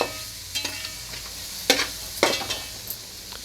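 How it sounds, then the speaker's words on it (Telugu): Dried fish frying in oil with chili powder and onions, a steady sizzle broken by several sharp scraping strokes of a spatula in the pan, close and without talk. "ఈ వట్టి చేపలు కారము, ఈ ఉల్లిపాయలతో కొంచెం వేగాలండి."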